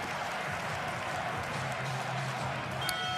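Finnish home crowd at a FIBA Basketball World Cup qualifier against Croatia applauding and cheering, a sustained, moderately distant wash of clapping and crowd noise with a brief whistle near the end.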